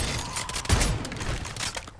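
Akimbo SPAS-12 shotguns in MW3 Zombies blast off in a rapid, dense volley, with one heavy boom near the middle over constant game noise.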